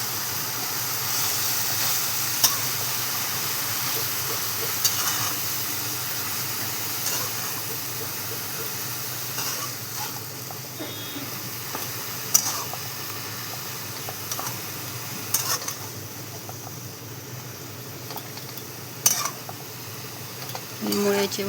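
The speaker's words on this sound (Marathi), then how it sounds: "भाजी परतून घेणारे सगळे मिक्स करून घेऊया छान." Radish sabzi sautéed in a pan, a steady close sizzle under repeated scraping and stirring strokes, with occasional sharper clinks of a spoon against the pan throughout.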